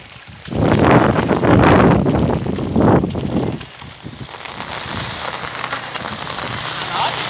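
Heavy rain pours down in a dense, steady roar, loudest early on, then continuing at a lower hiss with brief talking in between.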